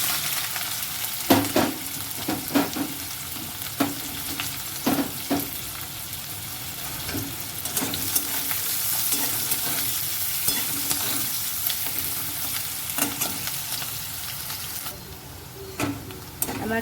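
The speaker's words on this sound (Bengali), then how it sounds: "তেল গরম হয়ে গেছে, আমি প্রথমে পেঁয়াজ কুচিটা দিয়ে দেবো।" Chopped onion fries in hot oil in a pan for pasta, giving a constant close sizzle broken by repeated scraping stirs of a utensil against the pan.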